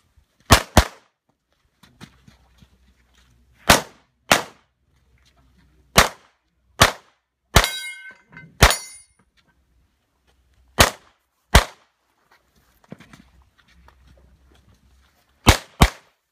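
Gunshots at a shooting range ring out as sharp, loud single cracks spaced irregularly, about a dozen over the span, some in quick pairs, with quiet gaps between and no talk.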